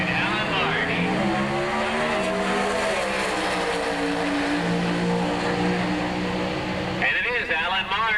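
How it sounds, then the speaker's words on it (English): A 1986 Pro Stock Camaro from Competition Automotive makes an NHRA drag racing run, its engine roaring loud and sweeping upward in pitch as it pulls away, under a track announcer's voice. "The Competition Automotive Camaro on the Winston side."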